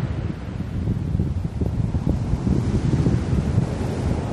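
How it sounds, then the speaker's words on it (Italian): Three-metre sea waves crash and churn against the shore in strong wind, a loud continuous roar of surf with heavy wind buffeting the microphone throughout and no voices. "Arrivano proprio onde di 3 metri,"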